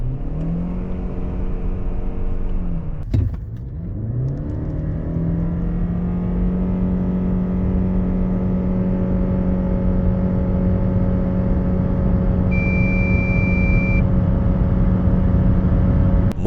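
A Ford Kuga 2.5 FHEV AWD hybrid with an eCVT accelerates hard to 100 km/h, giving a loud, steady engine drone with a sustained whine and a brief dip near the start, with no talking.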